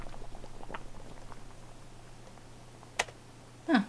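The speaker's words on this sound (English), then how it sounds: "The pot is boiling." A pot boiling in The Witch's House game, with soft bubbling patter under a low steady hum, followed by a sharp click and a brief louder thud near the end.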